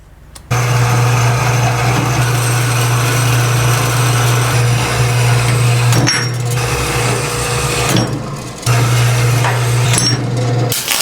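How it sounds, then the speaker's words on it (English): Plasma cutter cutting 1/2 inch steel plate: loud, steady buzzing hiss with a strong low hum, running continuously with a few brief breaks and sharp clicks, no talking. "There's the drop of it cutting 1/2 inch plate."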